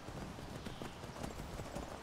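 Horse hooves clip-clop in a video game, an even run of soft, faint hoofbeats on hard ground, steady and unaccompanied.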